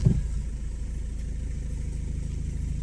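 A Renault Clio 3 dCi diesel engine turns over and settles into a steady, close idle, a low rumbling drone that continues evenly after a brief start.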